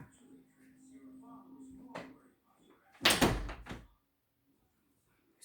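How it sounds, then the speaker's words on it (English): A door swings shut with a solid thump and short rattle midway, loud and close against a quiet room with faint background voices and noise before it. "Close the door."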